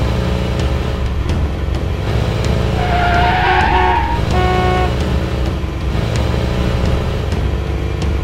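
A cartoon car skids on the road: a rising tire squeal lasts a couple of seconds over a loud, continuous engine drone, followed by short honks, with no talking.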